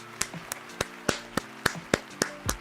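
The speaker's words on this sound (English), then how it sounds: "Another clap." Nine sharp hand claps ring out alone at a fairly steady beat, each a crisp, close smack with brief silence between.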